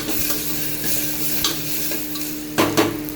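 Crushed ginger and garlic frying with potatoes in a pan, a loud close sizzle with repeated stirring scrapes and a sharper burst of scraping near the end.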